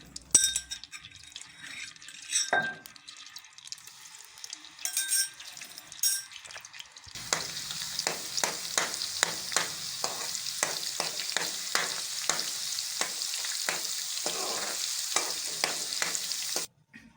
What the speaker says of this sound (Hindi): ऑयल हमारा गर्म हो गया है। अब इसमें अदरक और लहसुन का पेस्ट डाल लेंगे 1 चम्मच।